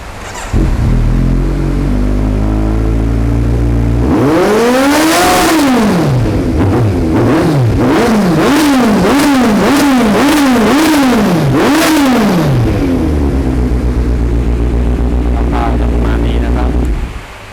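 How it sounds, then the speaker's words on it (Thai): A 2017 Kawasaki Z900 motorcycle engine idles, then revs repeatedly in quick rising and falling bursts, loud and close, before settling back to a steady idle. "เดี๋ยวลองฟังเสียงเครื่องยนต์กันดูดีกว่านะครับ"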